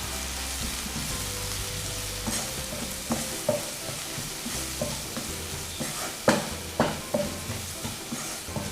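Spiced masala for egg roast sizzles in a pan as a spoon stirs it, giving a steady frying hiss broken by repeated scraping strokes that grow more pronounced toward the end.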